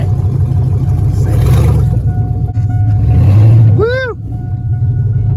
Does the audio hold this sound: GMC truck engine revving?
yes